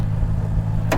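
Supercharged 5.4-liter V8 of a 2009 Ford Mustang Shelby GT500 idles with a steady low rumble, then a short burst of exhaust and blower noise near the end.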